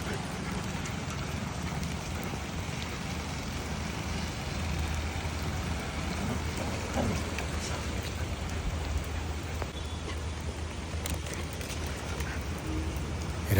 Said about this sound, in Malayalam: बारिश तेज आ गई. बहुत मस्त बारिश है.